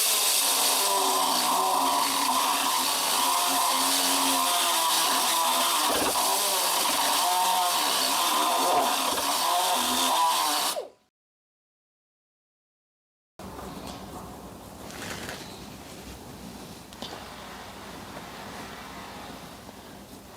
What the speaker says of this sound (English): I put this carbide bit on here, and we're gonna work it here just a bit, just to get this lump out of here